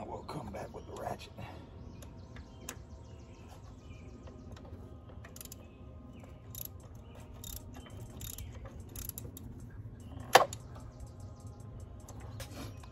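Ratchet clicking on a spark plug extension while working on a 2014 Dodge Durango Citadel engine, with faint intermittent mechanical clicks over a low steady hum and one sharper metallic tick near the end.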